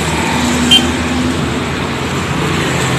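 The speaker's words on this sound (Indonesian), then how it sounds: "Lalu lintas sendiri terpantau lumayan rame." Steady, fairly busy road traffic rumbles at a roadside where buses such as a PO Garuda Mas coach pass, a continuous broadband wash of engines and tyres with a brief higher blip partway through.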